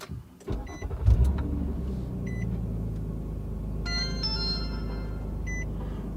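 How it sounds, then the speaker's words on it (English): A car engine cranks and catches at close range, then settles into a steady low idle rumble, with a few electronic beeps from a dash-mounted device chiming over it; no one speaks. "let's go ahead and start the vehicle and see if it works."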